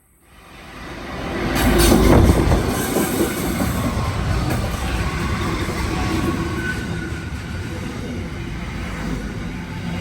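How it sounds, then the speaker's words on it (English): A freight train rolls through the platform at Hawkesbury River station, its deep rumble swelling loud within the first two seconds and then holding as a steady, heavy roar of wheels and wagons close by. "We have freight on platform 1."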